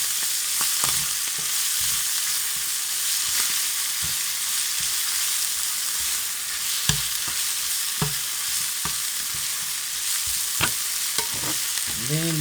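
Tomato paste stirred into translucent frying onions in a pan, a steady sizzle broken by repeated scraping spoon strokes, close and fairly quiet, with no talking.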